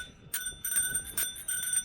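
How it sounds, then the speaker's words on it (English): A rental bicycle bell on a Mumbai street rings several times in quick succession, bright metallic dings repeating in a short, uneven rhythm, fairly faint. "The bells."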